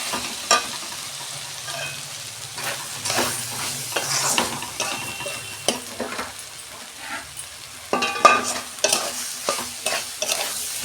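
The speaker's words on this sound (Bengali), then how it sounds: "আমি সয়াবিন আর আলুটা দিয়ে দিচ্ছি।" Soybean chunks and potatoes frying in spiced oil in a pan, stirred with repeated scraping strokes over a steady sizzle, close and fairly loud, no voices.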